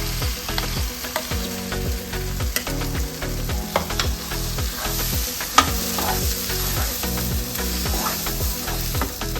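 A gravy of blended tomato and large chickpeas frying in a pan gives a steady, loud sizzle with spatula stirring and scraping clicks throughout, close up and with no talking.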